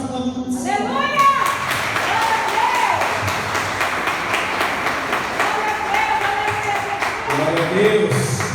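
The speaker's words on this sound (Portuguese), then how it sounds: "As palmas vão acontecer." A church congregation claps during a Portuguese-language worship service, a continuous rhythmic patter of many hands running under a preacher's voice and sustained musical tones, steady and loud throughout.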